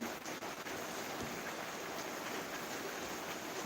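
Steady, fairly faint hiss of rain falling, an even wash of noise with no voices.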